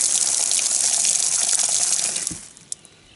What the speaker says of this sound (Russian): На улице у меня тоже выведена вода.